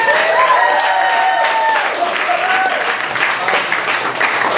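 Audience applause fills the room after a lecture on World War I, steady and sustained throughout, with a few voices and whoops mixed into the clapping.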